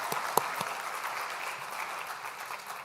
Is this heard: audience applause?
yes